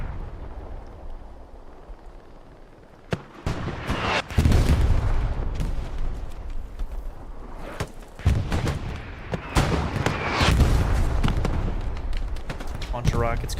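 Rocket and artillery barrages in the multiplayer war game Hell Let Loose during a competitive infantry assault, heavy booming impacts and rumbling blasts rising after a few seconds and continuing in dense bursts, loud and close.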